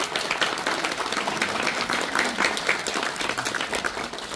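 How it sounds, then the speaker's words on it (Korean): Wedding guests applaud at a traditional Korean aristocratic-style wedding ceremony held at Namsangol Hanok Village, a dense, steady crowd clapping that holds at even loudness throughout with no voices over it. "하객 여러분, 천생연분의 이한상에게 뜨거운 박수를 부탁드립니다."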